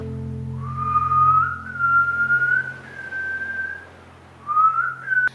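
A person imitates a strange whistling, a slow, eerie wavering tune of a few drawn-out sliding notes with pauses between, over a low background hum.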